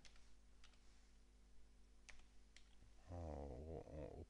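Typing on a computer keyboard into a Windows search bar: a few sparse, faint key clicks followed by a brief, denser burst of keystrokes near the end, close and quiet with no talk.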